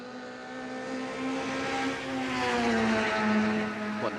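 A new BMW touring race car at pre-season testing climbs a hill toward a crest, its engine a strong, sustained tonal drone whose pitch holds and then shifts as it draws nearer and louder.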